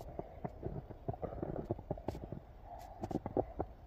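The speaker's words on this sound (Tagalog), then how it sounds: "yung tunog ng pag umapak sa snow" Footsteps crunch through fresh snow during a heavy snowfall in Seoul, a run of close, uneven crunching steps in quick succession with slight pauses, fairly soft and alone.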